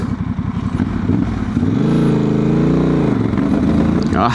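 Honda Transalp 750 motorcycle accelerating hard with its rear wheel spinning: a loud, close engine climbs and holds a rising roar for several seconds, then eases off.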